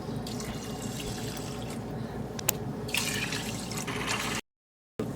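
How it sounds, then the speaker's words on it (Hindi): Running water splashes steadily as rice grains are rinsed and swirled by hand, with a brief dropout near the end. "टू कप्स राइस लेंगे, इसको धो लेते हैं"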